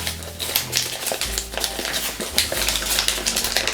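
Paper crinkles and rustles during an origami squash fold on a pre-creased model, a dense run of quick close crackling and tapping sounds over a low steady hum, with no talking.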